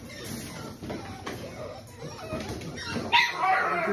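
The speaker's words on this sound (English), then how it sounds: "Letting the puppies get a little playtime." Nine-week-old puppies at play, yipping and whimpering in short high bursts with scuffling, fairly close, plus a louder yelp near the end.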